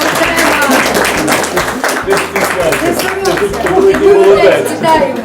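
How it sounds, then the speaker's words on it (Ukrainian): Hall audience clapping for a student receiving a scholarship award, brisk continuous hand claps mixed with crowd chatter and voices, swelling slightly louder toward the end. "Оплески, вітаємо"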